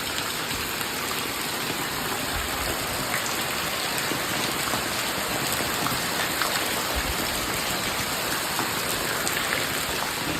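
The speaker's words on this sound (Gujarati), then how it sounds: "વરસાદ જોવો કેવો પડે." Heavy rain pours down outdoors in a dense, steady hiss and patter that holds at an even loudness throughout, with no voices.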